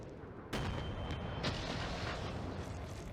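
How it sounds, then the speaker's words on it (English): Artillery fire in the video game Mecha Knights: a sudden heavy boom followed by a dense, sustained roar of blasts and rumbling that stays loud to the end, with no talk. "Let's fire some artillery."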